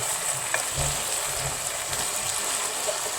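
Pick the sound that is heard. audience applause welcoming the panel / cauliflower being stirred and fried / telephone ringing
cauliflower being stirred and fried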